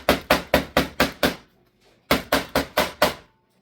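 A small hammer taps on a freshly cast gold ring in sharp, close strikes: six evenly spaced taps, a short pause, then five more at the same brisk rhythm, with no talking.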